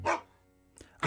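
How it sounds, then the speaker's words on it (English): A dog barks in two short bursts with a faint yip between them, moderately close in a quiet room. "I hear a dog."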